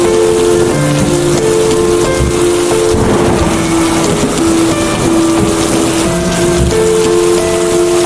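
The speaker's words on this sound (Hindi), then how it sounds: "बहुत तेज बारिश होने लगती है।" Heavy rain in a cartoon farm scene, a loud dense hiss of downpour filling the scene continuously, with tonal music notes layered over it.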